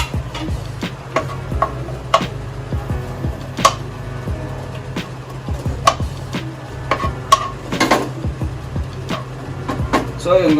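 Pork sizzling in a little cooking oil in a pan for adobo, a steady low frying hiss punctuated by frequent sharp clicks and scrapes of stirring, close and fairly loud.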